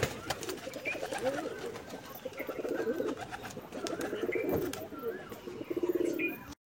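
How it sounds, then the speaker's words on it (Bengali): Domestic pigeons released to feed coo steadily in low rolling calls, mixed with light chirps and occasional wing flutters, close by with no talking. "বন্ধুরা দেখতে পাচ্ছ পায়রাগুলোকে ছেড়ে দিয়েছি, পায়রাগুলো খাচ্ছে।"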